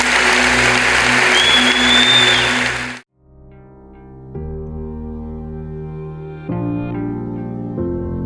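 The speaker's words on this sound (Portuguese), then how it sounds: "Você pode aplaudir a Jesus?" A church congregation applauds together in a dense, loud burst of clapping that cuts off abruptly after about three seconds, giving way to sustained music.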